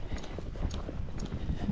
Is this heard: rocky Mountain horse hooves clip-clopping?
yes